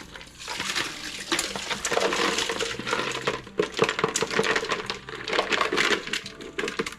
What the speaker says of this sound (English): And then we're just going to drain them.